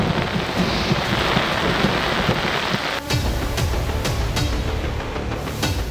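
Heavy monsoon rain in Karachi pours down in a loud, dense, unbroken roar, with a brief dip near the middle before the downpour resumes, sharp drop impacts scattered through it.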